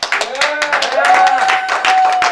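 A studio audience claps in quick, uneven bursts, close and lively, while a voice talks over the top.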